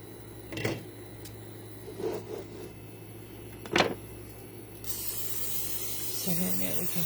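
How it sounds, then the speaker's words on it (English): Cooking spray is squirted onto burritos before toasting, heard as three short hissing spritzes spaced a second or so apart over a low steady hum, followed by a softer rising sizzle. "I'm going to spray the other side."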